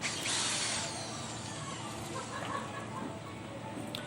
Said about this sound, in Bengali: খুব সাবধানে ড্রিল করবেন